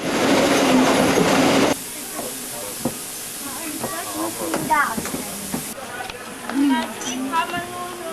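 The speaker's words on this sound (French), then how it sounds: "Nous croisons une des dernières rames montantes à mi-parcours entre Draianon et Wernigerode. Quelle puissance et quelle vélocité ces Brockenloks!" A Harz narrow-gauge Brocken steam locomotive hauling an uphill train passes close by with a loud, dense roar of steam and rumbling wheels for under two seconds. The sound then cuts off, and a voice speaks and chatter follows.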